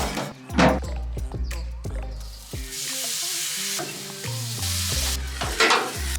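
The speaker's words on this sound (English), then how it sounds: "I'm gonna go ahead and grill the short ribs that came marinated last night." Marinated short ribs sizzle on a grill, with a steady hiss beneath a series of sharp knocks and clanks from the grill and utensils, and a faint voice briefly present.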